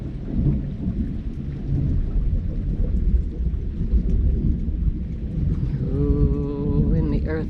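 Thunder rumbles low and heavy through a steady downpour in a foggy, lightning-filled storm, rolling continuously at close range, with a short voice sounding near the end.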